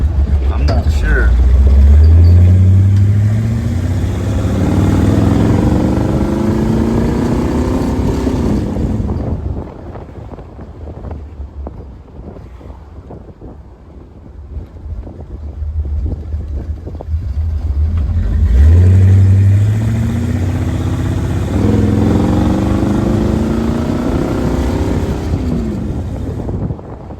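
A loud idling Jeep engine with an exhaust leak at the back rumbles with a rough, uneven exhaust note, revving up twice, with a quieter stretch in between.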